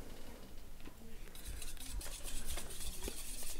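Eggs are whisked in a bowl with a utensil, rapid ticking taps against the side growing steadier and louder after the first second, close up with no talking.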